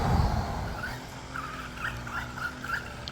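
Wltoys 124008 budget RC buggy with a hot motor circling on grass, its high electric whine rising and falling as it loops nearby, with a steady rushing noise of tyres through the vegetation.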